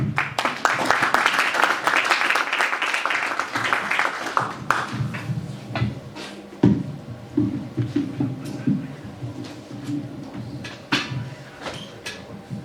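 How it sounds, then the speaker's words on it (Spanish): Audience applause at a book presentation in a hall, a dense burst of clapping for several seconds that thins into scattered claps and room noise, with occasional knocks and faint murmuring. "Aplausos para el señor Héctor Huerto Vizcarra"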